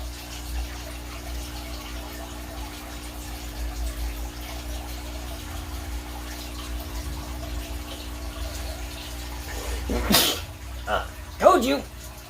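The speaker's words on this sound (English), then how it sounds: "Told you! Had a sneeze!" A person sneezes while tending small pets in an animal room: a sharp burst near the ten-second mark and a second smaller sneeze about a second later, over a low steady hum of running water or a pump.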